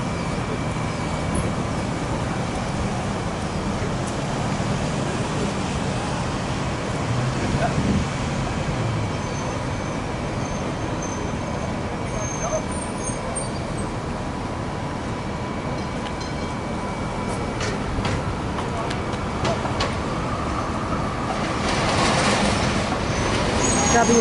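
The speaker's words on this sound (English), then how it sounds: "W class tram" A W class tram, model 957 on route 35, passing on a Melbourne street in 2019, with a steady, dense rolling rumble and wheel noise that holds throughout and swells louder toward the end, heard close.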